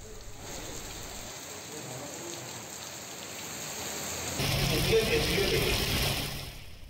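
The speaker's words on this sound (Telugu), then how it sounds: "వెదర్ ఒక్కసారిగా చేంజ్ అయింది, వర్షం కూడా అక్కడక్కడ పడతా ఉంది" Rain falls steadily in Telangana after a sudden change in the weather, a continuous broad hiss that swells louder in the second half, with no one talking.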